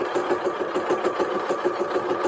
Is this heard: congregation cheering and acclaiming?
no